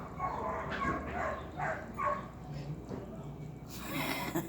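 Several dogs bark and yip in a quick irregular series at a moderate distance, the barks rising over a low background murmur.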